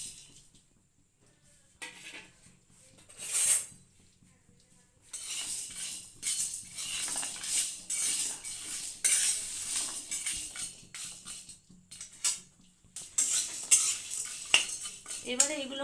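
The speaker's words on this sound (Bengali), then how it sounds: "এইগুলো শুকনো খোলায় ভেজে নেব।" Whole spices such as cumin, black pepper, cubeb, cloves, nutmeg and mace dry roasting in an unoiled pan, stirred with a metal utensil that scrapes and clinks in irregular bursts, close and fairly loud, with brief pauses between.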